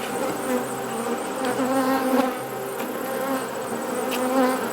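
Honeybees buzzing at an open hive during an autumn inspection, a dense, steady drone of many bees close by, continuous throughout with no voices.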